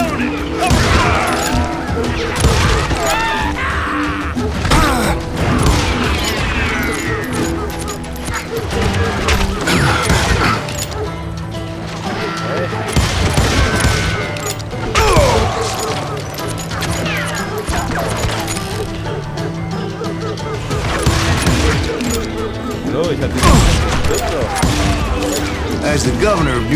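Gunfire in the Western video game Call of Juarez, with dense, loud crashing shots and impacts over a busy soundtrack, heard alongside shouted voices across the whole stretch.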